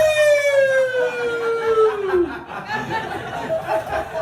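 A comedian on stage imitates a police siren with his voice, a single wailing tone that slides slowly downward in pitch before breaking off into chuckling.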